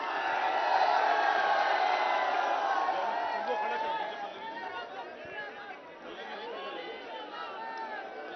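Crowd at a political rally in Sirathu, a dense murmur of chatter and scattered calls that stays steady and then eases slightly, heard at a distance without clear speech on top.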